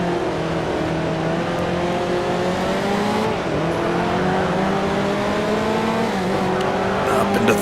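A 1955 Formula 1 race car engine in the sim racing game Grand Prix Legends drones loudly and steadily, pitch sliding down and climbing again through gear changes, with faint tire squeal near the end.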